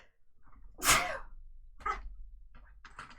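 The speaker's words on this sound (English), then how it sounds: "I'm going to have to sneeze" One loud, close sneeze bursts out, followed by a couple of softer sniffs and breaths, with no talk.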